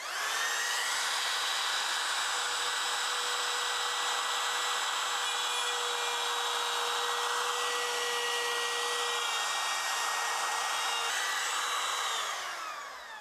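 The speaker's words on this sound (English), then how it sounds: "This router is not so powerful that it will rip things out of your hands." A handheld wood router cuts a groove in plywood for furniture, a steady high-pitched whine with a rough cutting rasp held for about twelve seconds before spinning down, close and alone.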